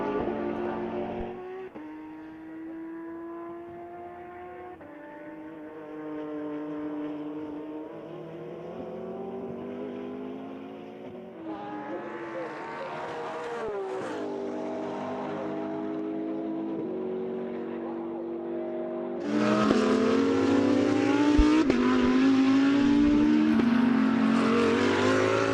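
Audi R8 and Lamborghini race cars on a circuit at a national extreme festival, engines droning with shifting pitch as they pass, swelling louder near the end.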